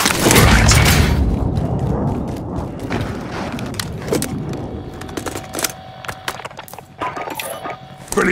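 Air strike in the video game Warzone: a heavy booming explosion opens, then rumbling debris and scattered crackling impacts fade out over several seconds.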